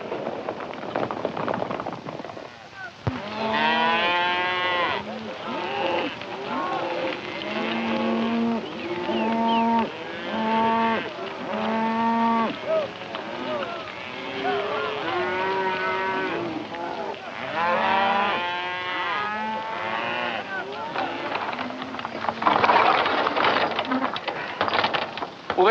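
Cattle at a rail yard moo loudly and continuously, many overlapping calls from a herd close by, sustained throughout with little pause.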